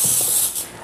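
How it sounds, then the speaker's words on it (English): Nonstick cooking spray misted onto a pan in a home kitchen, one short continuous hiss of under a second, close and fairly loud. "Put Nostick spray on the pan."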